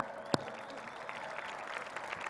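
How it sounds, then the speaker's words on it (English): Crowd clapping at the Arizona Cardinals' stadium during an event honoring Larry Fitzgerald, a faint, distant wash of many hands with one sharp nearby clap near the start. "And yes, you can clap."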